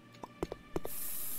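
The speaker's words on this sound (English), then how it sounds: "Alright, give me the cleaning spray." A cleaning spray in the horror video game Overcursed gives a few soft clicks and taps, then releases a sustained hissing spray burst lasting about half a second, close and clean.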